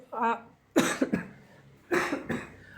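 A man with a cold coughs in two close, harsh bursts, the second a double cough, after a short vocal sound at the start, close to the microphone with quiet pauses between.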